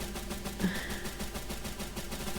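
Rapid bursts of gunfire crackle steadily throughout in the video game Stalcraft, a dense repeating rattle with one louder pop partway in, no talking.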